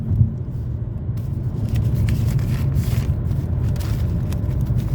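A rental car driving on the road, heard from inside as a steady low engine and road rumble with faint tire noise throughout.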